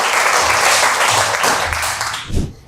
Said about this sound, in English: Once again, clapping for her.